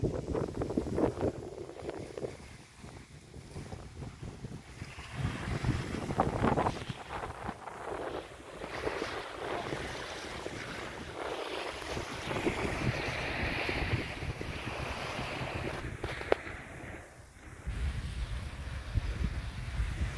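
Surf washing onto the western-side beach of Agatti Island in Lakshadweep, continuous breaking waves with gusty wind buffeting the microphone and brief lulls, no voices.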